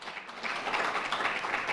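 Brief, dense applause from an audience, a steady patter of many hands clapping at moderate volume without voices.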